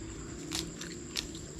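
Someone bites into crunchy cow hump fat with a couple of distinct crisp crunches spaced about half a second apart, heard up close against a quiet background hum.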